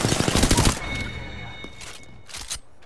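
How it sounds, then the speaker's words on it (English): A dense, loud rattle of rapid game gunfire opens the moment, then fades into scattered sharper shots and cracks over a busy game soundscape. "They're shooting at me."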